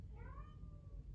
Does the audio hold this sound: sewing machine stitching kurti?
no